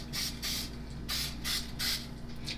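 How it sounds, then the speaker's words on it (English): Butter-flavoured cooking spray hissing from an aerosol can onto a hot waffle iron in a home kitchen, several short close bursts in a row over a low steady hum. "I'm going to add some butter spray"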